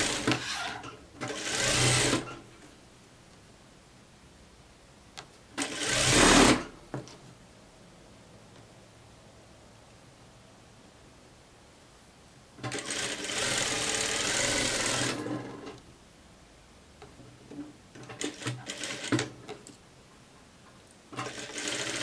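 A sewing machine joins fabric pieces in several separate bursts of fast whirring stitching, close and fairly loud, with quiet pauses between runs and no talk.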